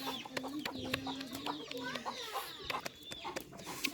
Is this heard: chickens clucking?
yes